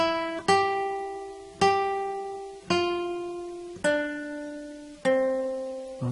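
Acoustic guitar playing the Jingle Bells chorus: five plucked notes ring out one after another at an even pace, each decaying before the next, close and clear with no voices.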